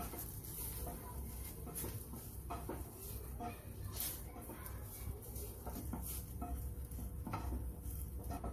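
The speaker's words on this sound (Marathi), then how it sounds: "याच्यामध्ये मी सुकं खोबरं टाकते म्हणजे जळणार नाही, हलकं हलकंसं भाजते" Dry coconut is lightly roasted in a pan with faint, steady stirring and soft scraping over a low, even background hiss, with scattered small clinks.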